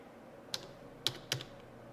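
Typing on a computer keyboard, three soft, close key clicks spaced unevenly over a quiet background, with no talking.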